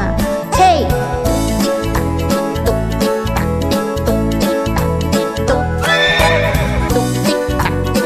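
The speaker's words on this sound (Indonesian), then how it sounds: "tuk tik tak tik tuk tik tak, suara sepatu kuda" Horse hooves clip-clop in a steady rhythm with a whinny, set within a lively Indonesian children's song about riding a horse-drawn cart, with full instrumental backing and music throughout.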